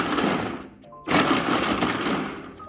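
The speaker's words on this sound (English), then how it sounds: "It just took few extra seconds to grind these carrots." Preethi Peppy Pro mixer grinder chopping carrots, a loud, dense motor whir with rattling pieces, briefly dipping near the middle before surging back to full power.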